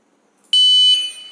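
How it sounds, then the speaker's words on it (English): An Arduino heat-monitoring system's piezo buzzer sounds a single loud, shrill electronic tone for about half a second after a brief click, then rings down more softly. "This buzzer gives a sound and that servo motor moves."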